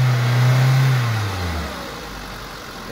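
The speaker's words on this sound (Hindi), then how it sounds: "फिलहाल तो इंजन में अनवांटेड साउंड तो आ ही रहा है," A Hero XPulse 200 motorcycle engine revs briefly, then settles back toward a steady idle, close and fairly loud with no voices.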